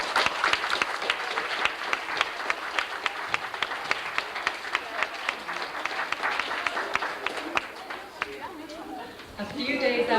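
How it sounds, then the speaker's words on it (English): A school gathering's audience claps for students' parents, many individual claps distinct in a lively round that thins out near the end as murmuring voices rise. "We'd like to give you a round of applause as well."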